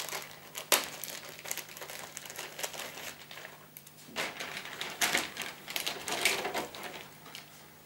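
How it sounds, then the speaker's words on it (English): Plastic packaging for Beyblade ripcords and stickers being torn open and unwrapped, giving close, steady crinkling and rustling with several sharper crackles and rips throughout. "And now I will open the ripcords and the stickers."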